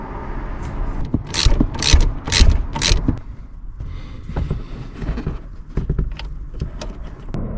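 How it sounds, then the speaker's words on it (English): A wrench loosens the nut on a car's negative battery terminal, giving four quick ratcheting bursts close by, followed by quieter metallic clicks and handling noises. "It's now time to reconnect the negative terminal, loosen this nut, and then connect this negative on here."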